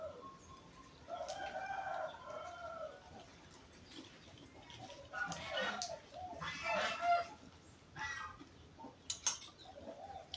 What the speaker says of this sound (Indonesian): mendengarkan suara angsa, satwa liar.